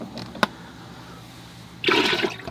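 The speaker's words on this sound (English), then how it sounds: "I think I'm going to empty my water bucket now" Water from a paint-brush rinsing bucket used during an oil painting session is poured out in one short burst of splashing near the end, after a quiet pause with a single sharp click.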